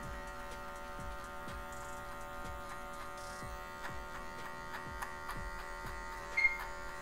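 Electric hair clippers fitted with a 1.5 guard buzz steadily close by while cutting bristly hair for a fade, a constant motor hum with faint rhythmic ticks and light snips over it.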